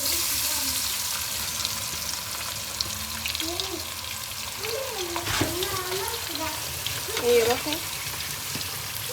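Flour and salt mixture frying in hot oil for koshari sauce, a continuous close sizzle with bubbling, under a woman's speech and some light stirring.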